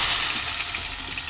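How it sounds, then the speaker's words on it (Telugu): Onion pieces dropped into hot oil for a mutton curry fizz in a steady, bright sizzle that starts loudest and settles slightly, with no talking. "ఇంక ఇప్పుడైతే నేను ఉల్లిపాయ ముక్కలు అయితే వేసేసుకుంటున్నాను"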